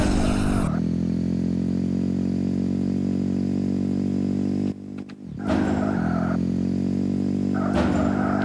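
A motorcycle engine in the stunt video game Art of Stunt drones loudly and steadily with a rich harmonic buzz, briefly cutting out for a moment before revving back up to its sustained whine.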